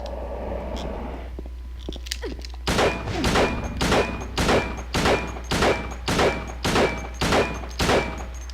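Gunfire in the video game Silent Hill 2: after a quieter stretch with a low hum, a run of about a dozen loud, evenly spaced shots lands roughly every half second, each with a booming tail.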